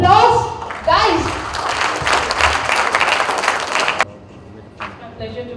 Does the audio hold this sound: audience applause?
yes